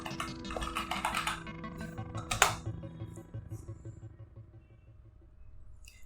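Keys clatter on a computer keyboard as a command is typed into a Windows command prompt, a quick burst of close, crisp taps with one louder press before the sound trails into quiet background hum.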